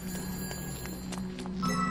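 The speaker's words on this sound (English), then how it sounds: "Where's our phone ring? I hear it, but I don't see it." A phone rings in the video game Shadows of the Damned, a steady, moderately quiet electronic ring over a droning game ambience, with no talk.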